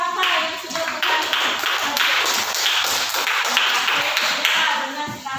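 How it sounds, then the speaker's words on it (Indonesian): Students in a classroom lesson give a round of applause for a classmate named Saka, crisp rapid clapping from many hands sustained for several seconds close by, with some voices underneath. "Kita beri tepuk tangan untuk Saka yang sudah berkali."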